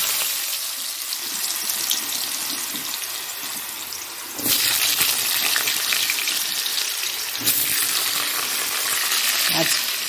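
Potatoes drop into hot oil tempered with five-spice, setting off a loud, close sizzle that jumps sharply in volume midway and continues as a steady, hissing fry.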